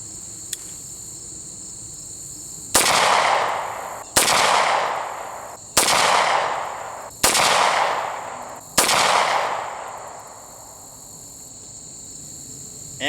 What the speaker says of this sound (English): doing the second volley of 5 shots